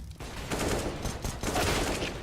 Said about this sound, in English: That's a headshot.